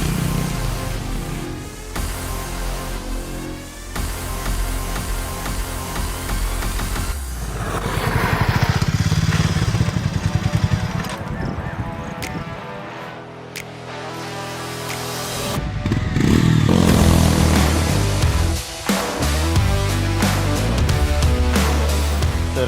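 A Harley-Davidson X440 road motorcycle rides off-road over rocky terrain, its engine loud and close, revving up and down with throttle bursts, surging and easing as it climbs.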